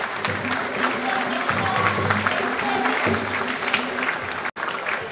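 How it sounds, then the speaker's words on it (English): A quiz show audience applauds the schools at a grand finale with loud, sustained clapping and crowd noise that fills the hall. A low rhythmic pulse runs beneath the clapping, and the applause stays dense almost to the end. "Please give these schools a round of applause."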